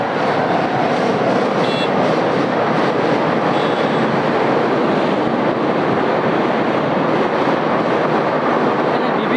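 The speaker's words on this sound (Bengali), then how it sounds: "একদম ব্রিজের গা থেকে শুরু করে ট্রেন আসছে" A train passes near a bridge, making a dense, continuous rumble and roar that stays loud and steady throughout with no breaks. There is no speech.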